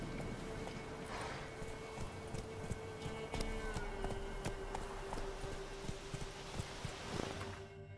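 Horse hooves clip-clopping at a steady gallop in The Witcher 3, rhythmic and fairly close, carried along under a continuous low musical or ambient bed with no talking.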